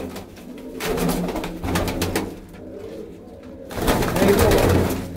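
A flock of about forty Punjabi Malwai pigeons kept for sale coo steadily and close by, the soft throaty calls overlapping with some wing and cage rustle throughout.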